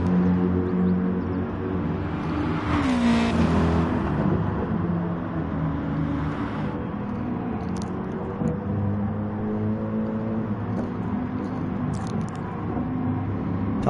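Race car engines in a PS4 racing video game during a league race, a steady loud whirring drone with shifting pitch as cars pass, continuous for the whole stretch.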